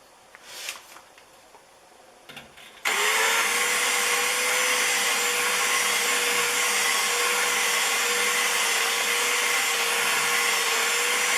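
After a few faint clicks and handling noises, a hand drill spins up and whines steadily and loudly while cutting a chamfer into a rifle barrel's muzzle with lapping compound, running unbroken to the end.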